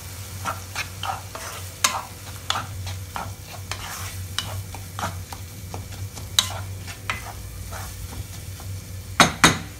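Baingan masala of eggplant being stirred in a frying pan, with a steady sizzle under repeated scraping and clinking strokes of a spoon against the pan, and two sharper knocks near the end.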